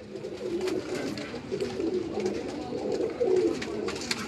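Ferozpuri pigeons cooing on a Karachi rooftop in soft, repeated low murmurs, several birds overlapping close by, with a steady background hum.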